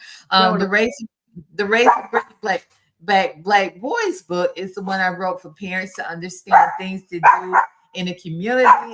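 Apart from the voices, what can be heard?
dog barking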